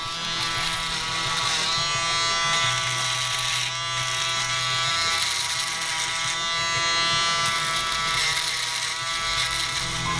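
Electric foil shaver buzzing steadily along a man's neckline during a barbershop beard trim, a close continuous hum with slight shifts in pitch as it moves over the skin, no talking.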